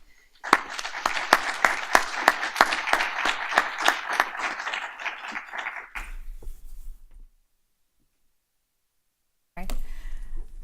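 Audience applause greets a speaker named Zainab taking the stage at an innovation roadmap talk, a dense steady clapping from a crowd lasting several seconds before fading into quiet, with a brief burst of room noise near the end.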